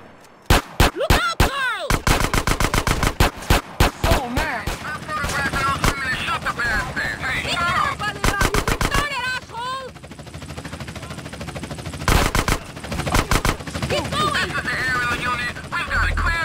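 Rapid bursts of video-game gunfire in Grand Theft Auto: San Andreas during a police shootout, loud, sharp shots in clusters and volleys with short pauses between, while voices speak over the shooting.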